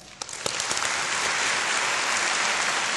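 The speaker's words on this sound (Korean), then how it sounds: "박수 한번 합시다." Audience applause at a university president's inauguration ceremony at POSTECH, a dense, sustained wash of clapping that swells within the first half second and holds steady at full volume to the end.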